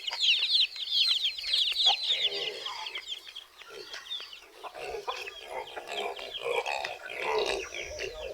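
Backyard chickens cluck and chatter in a continuous, fairly quiet stream of short calls, with several birds overlapping.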